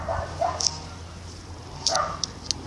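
Two dogs playing together give a few short barks and yips, one cluster early and another near the end, over quiet background noise.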